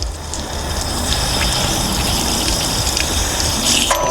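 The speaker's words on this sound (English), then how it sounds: "we're going to put at least a third of a tank in the freshwater" Water gushes steadily into an RV's fresh water tank during de-winterizing, a loud, continuous rushing fill with no talk over it.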